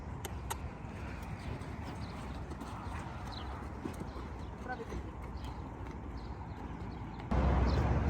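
A palomino horse's hooves clip-clop at a walk through steady outdoor noise, with a voice heard over the hoofbeats and the background growing louder near the end.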